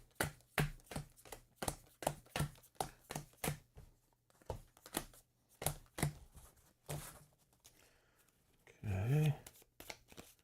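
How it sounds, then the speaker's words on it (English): Riffle-style shuffling of a deck of board game cards, a rapid run of crisp, close snapping bursts at a steady rhythm, then slower card handling with a brief voice over the last part. "And then shuffle the random event deck,"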